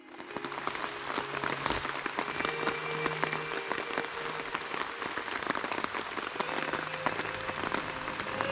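Rain falls steadily on a riverside campsite during a solo kayak camping trip, a dense, even patter of drops hitting surfaces all around, close and continuous with no voices.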